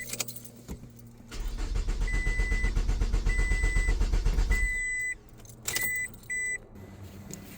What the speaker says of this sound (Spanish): nomás hace crank y no arranca